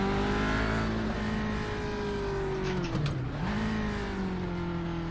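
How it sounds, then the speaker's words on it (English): A Lotus 49 F1 car lapping the Hungaroring in a racing simulator, its engine droning loud and steady at high revs, dipping briefly in pitch as it downshifts through a corner before pulling away again. "that is some laps of the Hungaroring in the beautiful Lotus 49 F1 car"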